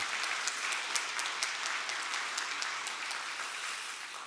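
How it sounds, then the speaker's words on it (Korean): A church congregation at a Sunday service applauds in encouragement, a dense, even wash of clapping heard from a middle distance at moderate level, steady for the whole stretch. "한번 우리 격려의 박수 드리겠습니다."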